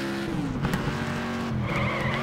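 A race car tire squeal under hard braking in Next Car Game on a figure-8 track, a steady screech over the continuous engine roar, rising slightly near the end, with no talking.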